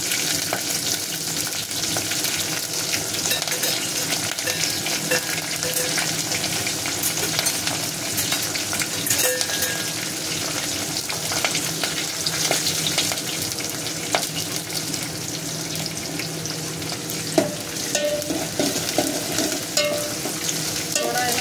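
Green chilli and garlic tempering in hot oil for a kadhi, a dense continuous sizzle with constant stirring scrapes, loud and close throughout without talk.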